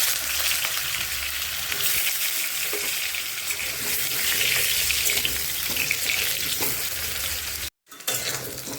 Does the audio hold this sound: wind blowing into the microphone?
no